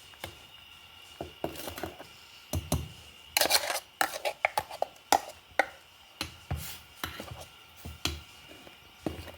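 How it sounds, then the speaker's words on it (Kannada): Neem leaves being chopped on a board for avarekalu kootu, heard as a run of short, uneven knife taps and scrapes close by, with brief quiet gaps between bursts and no talk. "ಬೇವಿನೆಲೆ ಕತ್ತರಿಸಿ ಹಾಕೊಂಬ"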